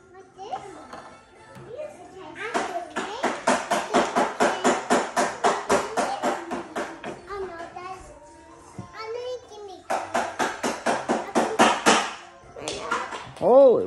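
Rapid, steady metallic tapping in quick bursts, like a hammer striking repeatedly, with children's voices and playful shouts around it.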